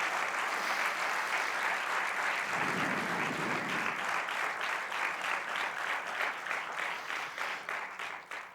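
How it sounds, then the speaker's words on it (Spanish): A conference audience breaks into steady applause, many hands clapping in a dense, continuous patter that gradually thins toward the end, with no speech over it. "un aplauso para esos adictos que están sufriendo"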